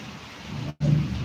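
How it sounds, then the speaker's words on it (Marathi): Heavy rain during the Diwali season makes a steady close hiss with a low rumble, broken by a brief dropout and then returning louder. "तुमच्याकडं असा दीपावलीमध्ये पाऊस आहे का नक्की सांगा"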